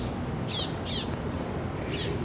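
A bird in a tree near an old pink building by a cruise terminal in San Juan gives three or four short, high chirps. The calls sound faint and a little distant over steady outdoor background noise.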